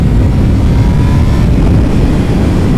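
A 2019 Honda CBR600RR sport bike at speed, its exhaust roar blended with ram air intake noise as a loud, steady low rumble with no voices.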